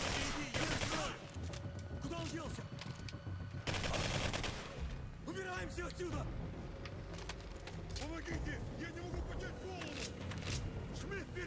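Gunfire from the video game Singularity, dense bursts of shots layered under game effects and a talking voice throughout, with louder volleys near the start and around the four-second mark.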